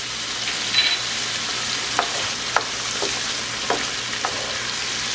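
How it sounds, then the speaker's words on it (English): Garlic shrimp being stirred in a frying pan, a steady close sizzle punctuated by a few distinct scrapes and taps of the utensil against the pan, with no speech. "Give that a good little stir."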